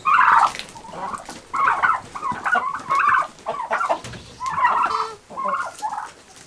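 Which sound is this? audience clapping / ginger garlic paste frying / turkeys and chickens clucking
turkeys and chickens clucking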